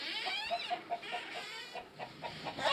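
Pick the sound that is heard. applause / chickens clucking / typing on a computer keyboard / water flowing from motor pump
chickens clucking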